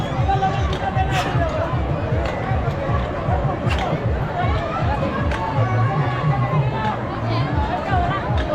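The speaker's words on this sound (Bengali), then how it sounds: "বন্ধুরা ভিড়টা দেখো, জাস্ট ওয়াও" A dense crowd at a fair in Dhaldighi, Gangarampur fills the air with a constant babble of many voices, with footsteps, scattered shouts and nearby talk.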